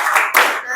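A group claps the rhythmic PPK clap routine in a few quick, loud bursts, sharp and close together.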